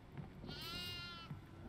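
A goat bleating in the horror video game Devour, one wavering, trembling bleat in the middle of the clip, fairly clear over a low rumbling game background with faint thumps.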